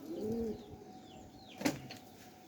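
A male pigeon being held in the hand bursts into a brief, close wing flutter partway through, after a soft low throaty sound at the start, with quiet handling noise around it.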